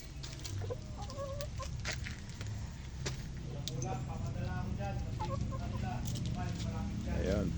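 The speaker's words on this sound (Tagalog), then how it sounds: "mga alaga kong Shamo chicken dito sa aming bakuran" Shamo chickens clucking and murmuring in a backyard, several birds close by with overlapping soft calls over a steady outdoor background, and someone talking intermittently among them.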